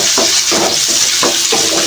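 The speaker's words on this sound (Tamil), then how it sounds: "ஆயில் நல்லா சூடானதுக்கப்புறம் வெங்காயம் சேர்த்துக்கலாங்க." Onions fry in hot oil in a home kitchen, a loud, constant sizzle that rises and falls as they are stirred at a regular pace, and there is no talk.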